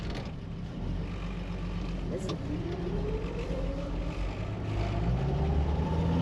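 A 1999 Jeep Wrangler engine runs steadily close by, its rumble rising in pitch as it revs and accelerates, with voices talking over it.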